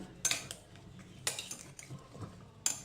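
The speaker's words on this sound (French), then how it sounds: "J'ai mis un petit peu de sauce sur le concombre et le persil. Je mélange le tout." Cutlery scraping and clinking on a plate while cucumber, parsley and sauce are tossed together, a few sharp clinks spaced across a quiet background, close by with no voices.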